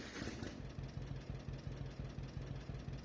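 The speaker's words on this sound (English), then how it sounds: "We're gonna jump back into our tractor." Tractor engine idling steadily in Farming Simulator 25, a low, even throbbing rumble with regular pulses, held at constant level throughout with no talk.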